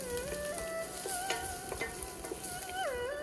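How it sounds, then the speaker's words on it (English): Minced ginger and garlic sautéing in oil in a pan for chicken fried rice, a soft, steady sizzle with light stirring taps, fairly quiet and close, without speech. "Now we'll add in some ginger and garlic, minced ginger and garlic. Saute this for a while."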